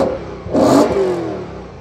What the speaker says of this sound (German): So, jetzt kannst du Gas geben.